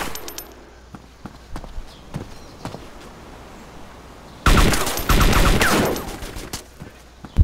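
Pistol shots ring out in a video game, scattered faint pops at first, then a loud close burst of rapid fire with clattering echoes in the last few seconds.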